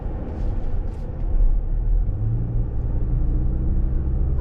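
A 2023 Toyota Crown XLE all-wheel-drive hybrid is driven along a road, heard from inside as a loud, steady low rumble of road and engine noise that swells slightly, with no talk.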